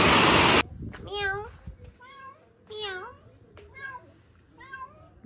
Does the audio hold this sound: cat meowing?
yes